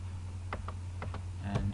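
Keystrokes on a computer keyboard while a PHP sessions file name is entered: a handful of separate, fairly faint clicks in an uneven rhythm, with a small cluster near the end, over a steady low electrical hum.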